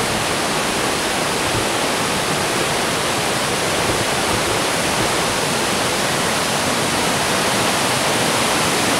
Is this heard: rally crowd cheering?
no